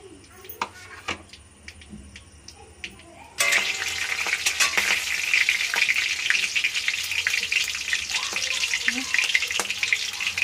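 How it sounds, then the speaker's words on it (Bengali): Green chili, cardamom, cinnamon and cloves hit hot oil, setting off an abrupt, loud, continuous sizzle after a few seconds of quiet clinks and faint talk. "তেলের মধ্যে আমি কাঁচা লঙ্কা দিয়ে ফোড়ন দিলাম, তার সাথে এলাচ,"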